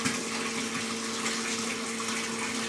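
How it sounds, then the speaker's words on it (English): Water flows steadily through a horizontal pipe friction-loss test rig and clear tubing back into a tank, giving a continuous rushing wash with a low, steady pump hum underneath. "the water flows out of the test section through the clear tubing and then back into the tank"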